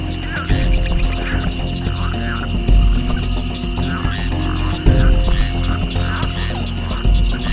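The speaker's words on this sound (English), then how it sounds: "frogs try to stay hidden or reduce their calls to a brief low-frequency rumble" Frogs croak repeatedly in a chorus of short, throaty calls, loud and close over a steady background hum.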